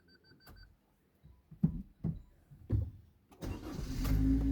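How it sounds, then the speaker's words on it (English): A Suzuki Baleno 1.2 AMT is started from inside the cabin: a few soft clicks and thumps, then the engine cranks and catches, settling into a low, steady idle. "let's start the car"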